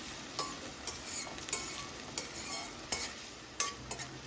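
Onions sautéing in a pan for street-style paneer bhurji: a constant sizzle with a steady high hiss, punctuated by several sharp scraping stirs of a spatula, close and moderately quiet.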